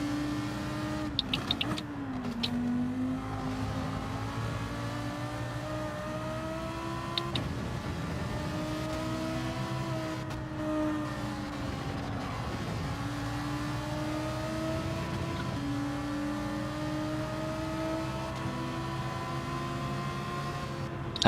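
Ferrari race car engines roar steadily in Gran Turismo 7, with pitch rising and falling through gear changes as several cars drone loudly and continuously with no talk.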